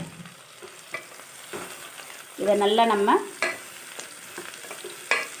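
Sliced bitter gourd sautés in oil in a pan, with soft sizzling and a louder burst of scraping and stirring midway, close by under brief spoken words.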